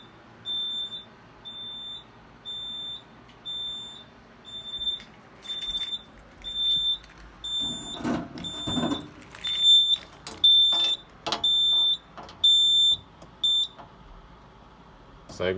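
A smoke detector sounds its alarm during a fire alarm system test, with a repeating high-pitched electronic beep pattern running steadily throughout, plus clattering handling noises and brief voices in the second half.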